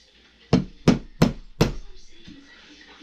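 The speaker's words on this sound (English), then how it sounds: "And then I'm just going to tap that very lightly with something." An old axle shaft held in a vise is tapped lightly four times during a motor rebuild, sharp metallic knocks spaced about a third of a second apart, close and clear, then quiet shop ambience.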